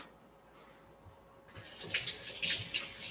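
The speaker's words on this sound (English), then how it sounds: "Let me wash my hands here." Tap water gushes into a sink for hand washing, starting suddenly after a quiet pause and continuing as a steady, close splashing stream.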